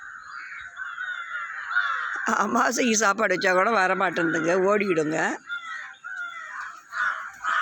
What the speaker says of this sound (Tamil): ஏன் இப்படி கத்துறீங்க காக்கா?